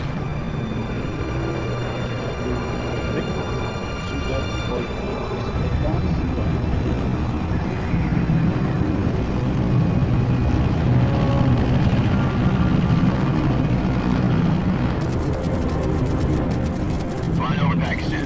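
A steady drone of an aircraft engine in Metal Gear Solid Delta fills the whole stretch, with a low rumble and faint tonal whine under a voice giving flight details and a brief burst of static near the end.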